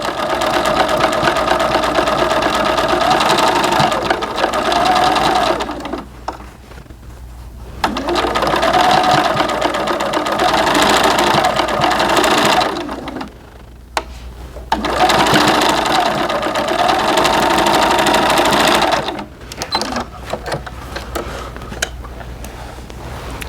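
A sewing machine top stitches the waistband of doll pants from a McCall's 6876 pattern, running in three long, steady whirring bursts with short pauses between them, close and loud.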